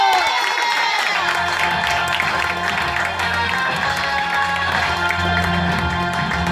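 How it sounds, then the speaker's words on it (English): Loud, dense audience applause and cheering at a comedy roast battle greets a comedian from Connecticut taking the stage, with whoops over steady clapping that holds throughout. "Clap it up for Doug Smith."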